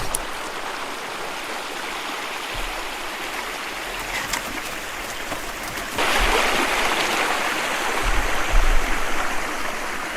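A small creek on a remote wilderness river trickles and burbles steadily nearby, growing a bit louder and fuller partway through, with no talking.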